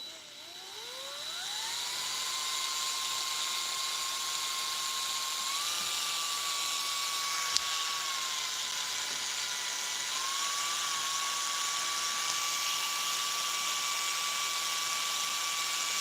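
A close electric drill spins up and holds a loud, continuous whine while drilling holes in metal, with small pitch shifts as the bit bites, running unbroken to the end.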